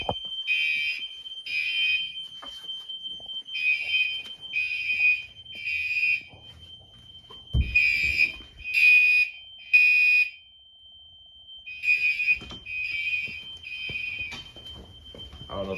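An EST Genesis fire alarm horn sounds during a security system test, blaring in repeated groups of three short, loud bursts with pauses between, over faint background rustling.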